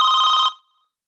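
A telephone bell rings once in a single loud burst lasting about half a second, then cuts off into silence.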